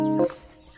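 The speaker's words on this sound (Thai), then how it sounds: "ฮ่าพ่อไก่มาดูแล้ว" A chicken or rooster in a large coop gives a single short, nasal cluck that cuts off abruptly, close and fairly loud, followed by quiet background.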